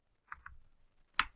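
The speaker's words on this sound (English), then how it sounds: "hit the N button on my keyboard a couple of times. Then hit enter" A computer keyboard is pressed: two quick, light key taps followed a moment later by a single sharper, louder keystroke, close and isolated in a quiet room.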